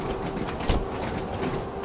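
A train runs on the Ryde to Shanklin line of the Isle of Wight in Train Sim World 2, with a steady, close rolling rumble and one brief louder clunk partway through. No one speaks.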